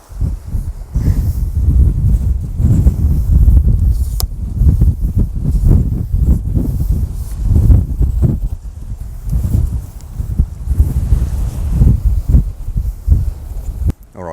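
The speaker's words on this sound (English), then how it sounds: "just getting blasted by the wind and the sand" Strong wind buffeting the microphone on a beach, loud continuous low rumble with gusting surges throughout, carrying blown sand.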